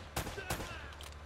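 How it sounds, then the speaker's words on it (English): A few quick gunshots ring out in Uncharted: Drake's Fortune, two sharp cracks close together followed by fainter bursts, set against a low background hum. "Oh, did the girl just shoot?"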